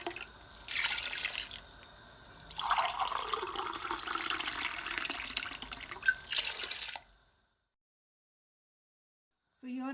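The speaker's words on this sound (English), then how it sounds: "since we added 4 cups of rice, I'm gonna add in 8 cups of water" Water is poured from a measuring glass into a pot of rice in a home kitchen, two bursts of splashing filling, then a pause before a brief trickle.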